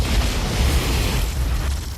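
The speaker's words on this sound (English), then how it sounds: "Bowman sees a massive explosion on Mars" A massive explosion on Mars rendered as a film sound effect: a loud, sustained low rumbling boom with dense broadband roar that stays heavy for about two seconds without fading.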